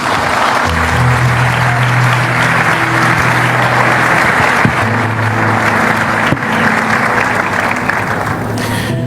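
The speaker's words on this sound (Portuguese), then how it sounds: "Por gentileza, uma salva de palmas." Sustained applause fills the hall at a Bible college graduation ceremony, a dense, loud wash of clapping from a large audience that continues without a break, with a low hum steady underneath.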